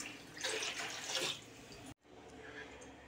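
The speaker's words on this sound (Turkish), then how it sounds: "Aynı ölçülerde su koyacağım." Water pours into a pot for fig jam syrup, a close splashing rush for under two seconds that cuts off sharply and is followed by a fainter trickle.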